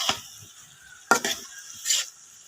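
Mixed vegetables being stirred in a pan, three short scraping strokes with light sizzling, close by and fairly quiet, with no talk.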